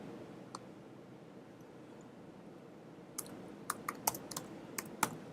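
Typing on a computer keyboard: one lone keystroke near the start, then after a quiet pause a quick burst of several close, crisp key clicks, with no one speaking.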